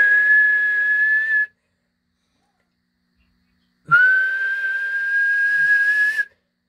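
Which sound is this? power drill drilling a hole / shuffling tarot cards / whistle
whistle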